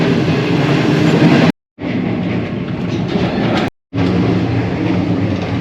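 The upgraded Shalimar Express passenger train runs from Karachi toward Nawabshah with a loud, continuous rumble and rattle of wheels and carriages, heard close from on board and cut by two brief dropouts.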